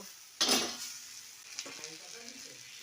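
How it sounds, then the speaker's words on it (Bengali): Vermicelli (semai) upma with carrot and potato is stirred in a pan, giving a sharp scrape and sizzle burst at first, then a quieter ongoing sizzle with soft utensil scrapes against the pan. "এবার এই যে আমি সেমাইটা দিয়ে সুন্দর করে নাড়িয়ে চাড়িয়ে নেব"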